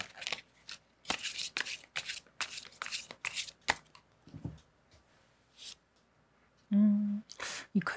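Tarot cards are shuffled and riffled by hand in a quiet room, bursts of close papery flapping and slapping with short pauses, ending with a brief low hum and a couple more card sounds.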